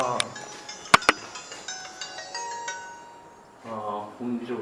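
A mobile phone rings nearby with a repeating electronic melody, steady tones under a cluttered room, with a couple of sharp knocks and some voices near the end.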